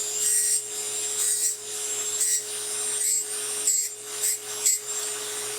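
Large dental burr cutting a ditch around a die, repeated short rasping strokes in a steady rhythm over a constant high motor whine, close and fairly loud.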